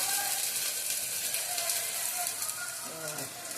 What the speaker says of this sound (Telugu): ఉల్లిపాయ వేగిన తర్వాత అల్లం పేస్ట్ వేసి ఇలా పచ్చివాసన పోయే వరకు వేపుకోవాలి.